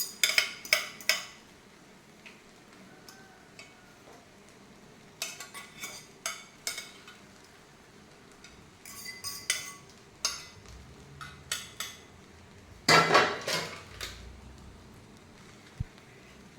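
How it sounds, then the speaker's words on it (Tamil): Egg fried rice is stirred in a pan, giving faint, intermittent bursts of clinking and scraping that come in short clusters against a quiet kitchen background. "எக்கு போட்டுட்டு நல்லா கிண்டிக்கலாம்."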